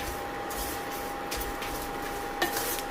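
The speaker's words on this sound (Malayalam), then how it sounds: "ഞാനിപ്പം അല്പസമയം കൂടെ ഇത് ഒന്ന് മിക്സ് ചെയ്തുകൊണ്ടിരിക്കുകയാണ്" A roasted chammanthi spice mix is stirred in a pan, giving soft, steady scraping with a faint clink near the end, low and close over a quiet background hum.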